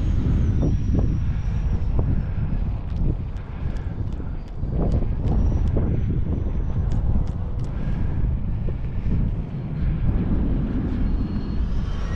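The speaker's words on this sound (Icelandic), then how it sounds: "Vindurinn, mikill vindur." Strong gusting wind buffets the microphone at Arnarvöllur airfield during an E-flite Viper 70 RC jet flight, a steady loud roar with a faint high engine whine running through it and occasional thumps.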